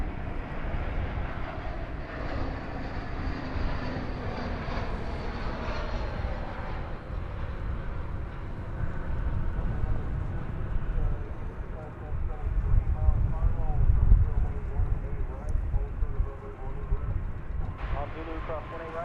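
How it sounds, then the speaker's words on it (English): An American Airlines Airbus A321 arriving at Dallas Fort Worth gives a distant, steady jet rumble that swells gently toward the end, while people talk over it. "It's American Flight 2845 arriving from Salt Lake City on an Airbus A321"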